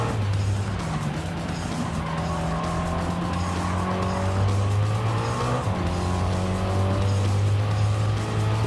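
A GAC Maverick race car in a video game roars through a lap with a sustained, loud engine drone, its pitch rising and falling through gear changes, and tyres squealing through the corners.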